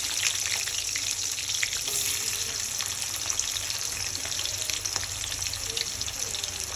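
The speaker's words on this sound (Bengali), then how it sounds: "জিরে দেওয়ার পরে এখানে দিয়ে দেবো হচ্ছে পেঁয়াজ কুচি।" Chopped onion frying with cumin in hot oil for chicken kofta gives a dense, steady sizzle that stays loud and even from start to finish, with no talking.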